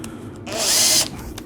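A power drill whirs in one short, loud burst of about half a second, with quieter handling noise before and after.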